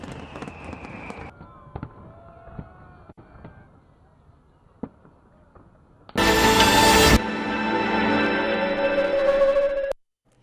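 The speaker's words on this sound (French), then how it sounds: "l'on vous quitte avec ces images de feux d'artifice qui ont illuminé plusieurs capitales mondiales" Sharp bangs and crackles pop intermittently over a low murmur, then a dense burst of loud crackling fireworks sustains for several seconds before cutting off.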